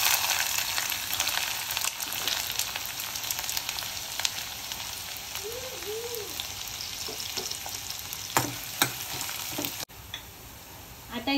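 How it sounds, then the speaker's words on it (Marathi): Chopped onion frying in a few spoonfuls of hot oil in a kadhai gives a steady, loud, close sizzle with a dense crackling hiss throughout, along with a few brief stirring knocks near the end. "आता आपण हा चिरून घेतलेला कांदा टाकून घेऊया"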